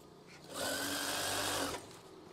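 A sewing machine runs in one quick burst of about a second, stitching an eyelet curtain with a busy, close whirring that starts and stops cleanly over a quiet room.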